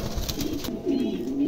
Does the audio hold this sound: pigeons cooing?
yes